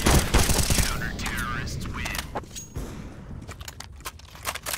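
Counter-Strike match on de_cache with gunfire, a grenade and an incendiary: a loud opening burst of shots, then scattered sharp bangs and pops over a busy background, with voices talking.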